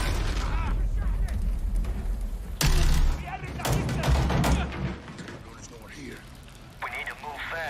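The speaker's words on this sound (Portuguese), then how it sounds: "Que gratificante esse barulho do tiro." Video game gunfire rings out in loud bursts of shots and booms, briefly stopping, then starting again, with mechanical clatter and voices speaking over the action.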